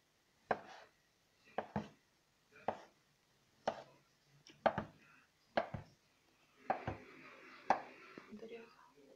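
Knife chopping through thick homemade pasta dough on a board, about nine separate sharp thuds at an irregular, unhurried pace, close and quiet, with faint whispering between cuts.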